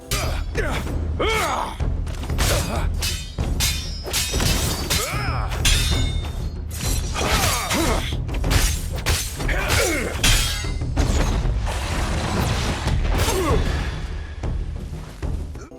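Sword blows and impacts in the hack-and-slash game Burning Sword: Death Sun, a steady flurry of sharp clashing hits and heavy thuds over a constant rumbling bed of combat noise.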